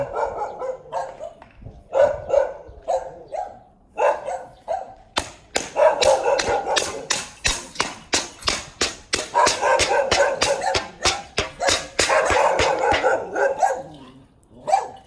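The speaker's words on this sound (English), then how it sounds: "I love this dog." A dog barks over and over in loud, close bursts, some quick and clustered, with brief pauses between runs and a few softer yips.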